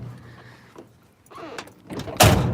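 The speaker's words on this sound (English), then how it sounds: "Shut the door." A car door on a 1977 Chevy mini monster truck is pulled shut with a loud close slam near the end, after quieter rustling and handling sounds.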